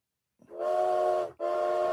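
A train whistle, steam-style, sounds in two sustained blasts, a long tone cut by a brief gap and then a second blast, loud and alone with no talk over it.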